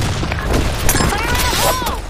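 A grenade explodes in a video game set in a broken city, a dense low rumble with scattered gunfire, steady and loud across the whole stretch, with faint voices in the mix.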